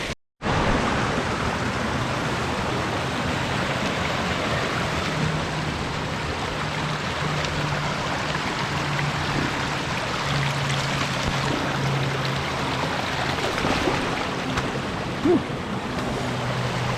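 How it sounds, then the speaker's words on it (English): A small creek flows beside a running trail as a steady, broadband rushing wash of water, close and continuous for the whole stretch, with no talking. "It's like a little creek."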